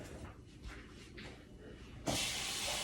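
Running water rinses a container that held leftover cayenne: a soft hiss at first, then a louder, steady rush of water near the end.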